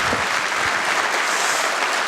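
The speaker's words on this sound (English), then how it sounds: "you can clap, I don't mind" A crowd at a Donald Trump campaign rally in Ottumwa, Iowa claps in a dense, steady wash of applause that stays even throughout the short stretch.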